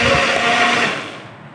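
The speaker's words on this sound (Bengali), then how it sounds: "কাটা শেষ এখন ব্লেন্ডার করে নেব" A kitchen blender grinds chopped onion and garlic with a loud, steady whirring roar that holds through most of the moment and then eases off slightly near the end, with no talking.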